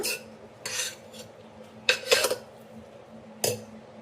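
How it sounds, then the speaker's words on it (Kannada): A spoon scrapes and clinks against a pot while soya chunks palav is served into a bowl, with a few distinct metallic knocks between quieter stirring sounds nearby. "ಸೊ ಬನ್ನಿ ಈಗ ಸರ್ವಿಂಗ್ ಬೌಲ್ಗೆ ಹಾಕೊಳ್ಳೋಣ"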